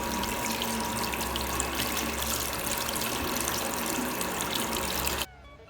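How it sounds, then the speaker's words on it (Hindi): Steady gushing of tap water running for several seconds, loud and close, with splashing as a makeup sponge is rinsed beneath it, then it stops abruptly. "और इसको अच्छे से पानी से वॉश कर लीजिए."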